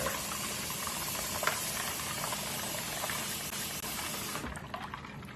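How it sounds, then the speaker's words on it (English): A pot of water at a rolling boil on the stove for blanching tomatoes, with steady bubbling and rattling, fairly close and continuous, easing off near the end. "into the boiling water for about 15 seconds"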